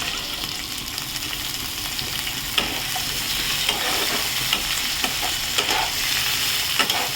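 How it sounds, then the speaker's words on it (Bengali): Diced potatoes fry in a pan with a steady, dense sizzle as they are stirred, with light scrapes and clinks of the spoon against the pan. "আলুটাকে নাড়াচাড়া করতে হবে।"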